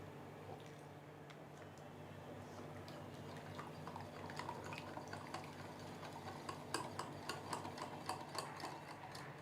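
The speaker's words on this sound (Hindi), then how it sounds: "थोड़ा थोड़ा पानी डालकर एक स्लरी बनाएंगे" Cornflour and plain flour with a pinch of salt being stirred into water to make a thick slurry, a soft continuous scraping and rubbing with small clicks of the spoon against the bowl, steady and close.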